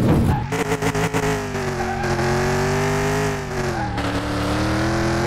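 A Ford Mustang GT350 slides sideways in a drift, its engine roaring loud and steady while the tires squeal and skid continuously, close up and dominating throughout with no speech.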